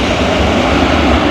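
An airliner with CFM engines landing at London Heathrow in wet weather, a loud, broad, steady engine roar filling a short moment.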